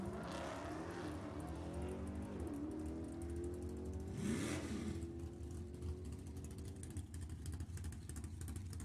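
Engines of a 2019 Corvette and a 2019 Challenger at a Sacramento Raceway bracket drag race, a loud continuous rumble with rising revs and a car sweeping past near the middle, heard from trackside.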